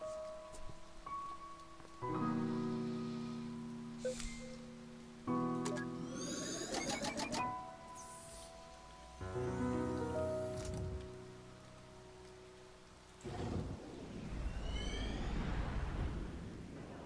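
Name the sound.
rain in a video game (To the Moon)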